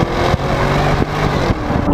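Porsche Cayenne S V8 accelerating hard and shifting up, the engine note climbing loud and steady from inside the cabin with brief dips at each gear change.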